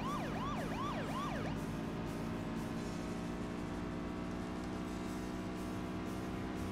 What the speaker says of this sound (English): I'd play that siren for funsies